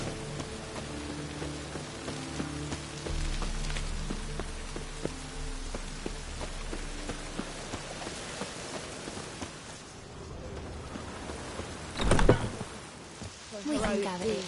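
Rain in The Witcher 3: Wild Hunt, a steady patter of drops on surfaces, with a few knocks and a louder burst near the end.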